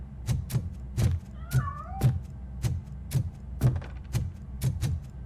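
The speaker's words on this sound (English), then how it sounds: "The cat is fine." A cat meowing in the game Robocop: Rogue City, a couple of short meows amid a steady, rhythmic series of heavy thuds, close and moderately loud, with no talking.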